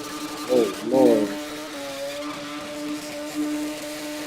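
A truck's engine is pushed hard and revs, settling into a steady, droning tone after a couple of brief voice-like bursts at the start.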